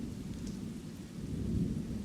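A low, steady rumble of thunder rolls through a rainstorm, the deep sound swelling slightly toward the end under a constant hiss of rain, with no voices.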